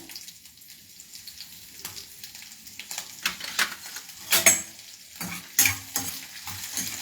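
Crushed pepper and chillies fried with spices in a pan, a close crackling sizzle with stirring clatter and a few sharp pops building toward the end, no speech.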